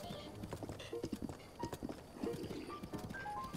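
Horse hooves clip-clop in a steady trotting rhythm in the video game Zelda: Breath of the Wild, mid-level under soft game music with a few brief tonal chimes.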